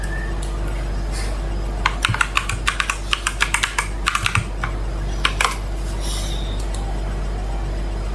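Someone types an ID number and password on a computer keyboard, with bursts of quick close key clicks separated by pauses over a steady low hum.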